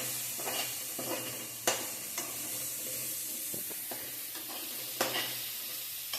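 Onion and carrot sauté in a pan, giving a steady close sizzle with spatula stirs and occasional sharp scrapes at irregular moments.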